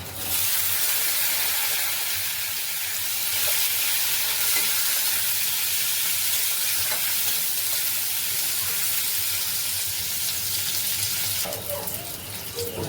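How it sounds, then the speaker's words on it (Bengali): Chopped onions frying in a pan for Gobi Manchurian, stirred as they cook: a steady, dense sizzle runs close and loud throughout, with a brief clatter of the utensil near the end. "পেঁয়াজগুলো বেশি ভাজবো না"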